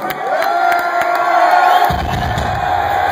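A live rock concert crowd at a show in Chandler, Arizona roars and cheers loudly and continuously, with whoops and shouts over a constant wall of noise and a deeper rumble joining near the end.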